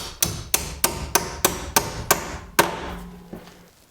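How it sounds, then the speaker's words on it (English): Hammer tapping a bent door hinge pin back into place: about eight sharp metallic knocks at a steady rhythm, close and clear, the last blows trailing off softer. "tap it in with a hammer"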